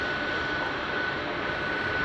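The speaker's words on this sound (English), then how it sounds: "as we listen to the engines idle from that aircraft" Airliner engines idle at Chicago O'Hare airport as a steady, loud, broadband roar with a faint high whine running through it, continuous and unchanging.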